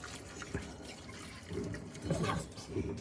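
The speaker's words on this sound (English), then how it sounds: "you're gonna pour the water slowly forwards, not towards yourself, into the strainer" Hot water poured from a pot into a strainer holding potatoes, a soft splashing trickle that comes in uneven bursts and swells louder toward the end, close by with no talking.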